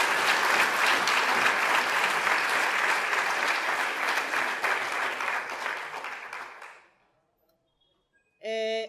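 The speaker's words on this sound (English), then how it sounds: "I want us to please, again, give our comrade a round of applause." A large audience at an event gives a sustained, loud round of applause that gradually fades to silence before a voice begins speaking.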